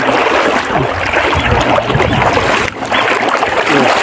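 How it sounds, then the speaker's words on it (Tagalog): Strong, fast river current rushing over a shallow stream crossing, a loud, steady broadband wash of flowing water that fills the whole clip with one brief dip near the end. "Pero malakas yung agos ng tubig bro."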